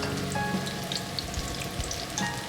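Vegetables for tempura frying in oil heated to 170–180 degrees, a steady bubbling crackle with scattered sharp pops and spits, moderately loud and close, with no voices.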